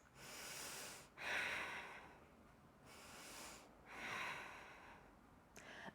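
Slow, deep breaths taken while holding a yoga twist, close and quiet, with two full cycles of long airy inhales and exhales, one slightly snorting.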